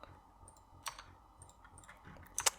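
A few sparse, quiet computer mouse clicks sound while working in Blender, with one isolated click and then a quick double click near the end against a faint background hum.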